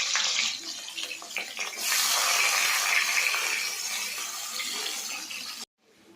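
Onion tossed into hot oil in a wok for a duck curry, giving a loud, steady broadband sizzle that surges after the first couple of seconds and cuts off abruptly near the end.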